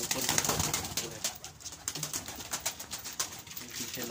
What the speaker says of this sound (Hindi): ये काला टैडी कबूतर है मेरे